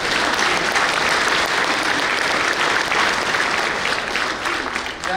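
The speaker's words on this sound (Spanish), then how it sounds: "¡Démosle un fuerte aplauso!" An audience at a celebration breaks into loud, sustained applause, a thick wash of clapping that stays steady throughout and fades slightly at the very end.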